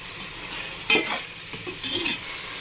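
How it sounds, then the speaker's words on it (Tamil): A spoon stirs onion, ginger and garlic frying in oil in a pot for a camel gravy, with a couple of scraping strokes over a soft, continuous sizzle. "இப்போ இந்த நேரத்தில் கவனமாக இருக்கணும் அடி பிடிக்கும் அப்போ நம்ம என்ன அடி பிடிக்காமல் கிண்டிக்கிட்டே இருக்கணும்"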